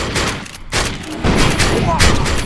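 Bursts of automatic gunfire from the online shooter game Defiance during a dockside player-versus-player match, loud and close, arriving in several sustained volleys with a brief gap between them.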